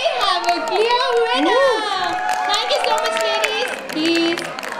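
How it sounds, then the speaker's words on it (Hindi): Students in a crowd at a college freshers event hoot and cheer for a contestant, with high whooping voices rising and falling over continuous noisy chatter for several seconds. "तो इनके लिए हूटिंग।"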